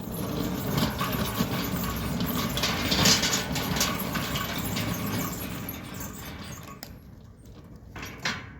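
A Centurion D5 Smart gate motor runs with a grinding, ratcheting gear whir and squeal, moderately close, then cuts out near the end with a few brief clicks.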